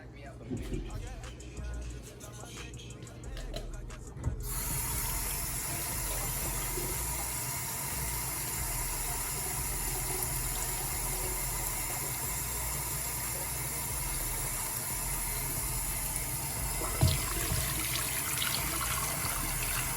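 After a few seconds of quiet, water starts pouring steadily into a pot, a continuous rushing splash that runs unbroken to the end.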